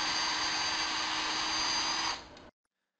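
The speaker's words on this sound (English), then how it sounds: "you might want to take your drill and just widen that hole up just a little bit and drill through it again" A power drill runs steadily, widening a hole through a shoe, a loud continuous whine close up that spins down and stops abruptly near the end.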